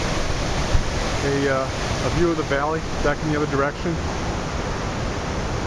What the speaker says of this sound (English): Nice little waterfall here running down.